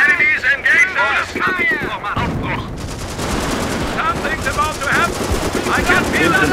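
Machine gun fire in Company of Heroes, Battle of the Bulge, chatters in continuous close bursts along with heavier battle noise, while voices shout over the firing early on.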